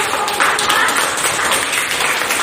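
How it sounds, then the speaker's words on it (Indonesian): A room full of people claps together, a dense, fairly loud patter of applause lasting a few seconds with a murmur of voices underneath. "Tepuk tangan dulu."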